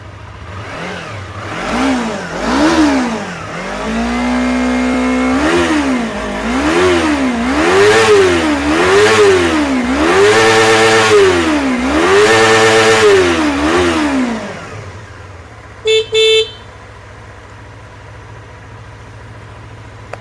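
A Kawasaki Ninja RR two-stroke motorcycle, about 25,000 km on the clock, is revved repeatedly from idle in roughly seven rising-and-falling bursts, loud and close, before dropping back to a quiet idle with a brief sharp click near the end.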